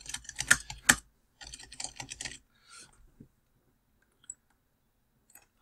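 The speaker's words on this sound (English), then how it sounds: "So if we type in a reference" Fingers type in quick bursts on a computer keyboard, close and clear, then slow to a few isolated key clicks amid quiet.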